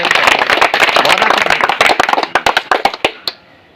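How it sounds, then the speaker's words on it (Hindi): Crowd applause at an election campaign gathering for a mukhiya candidate in Banmankhi: many hands clapping in a dense, loud burst that thins into scattered separate claps and stops, with no talking. "लोग तो ताली गड़गड़ा दिया हो।"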